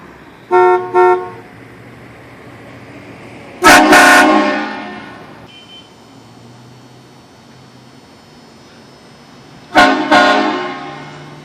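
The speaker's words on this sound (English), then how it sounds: "Stock horn and train horn." Heard from a distance of roughly 30 to 100 yards, a stock car horn gives two short toots, then a Conductors Special 228VX train horn blasts twice. Each blast is loud and brassy and fades slowly, with quiet gaps between.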